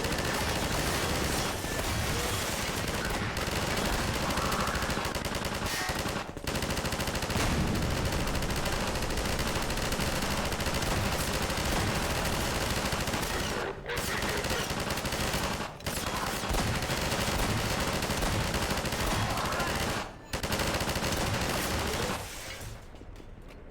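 Sustained automatic gunfire in Half-Life 2, loud dense rapid bursts that run almost continuously for over twenty seconds, broken only by a few brief pauses, with no talking.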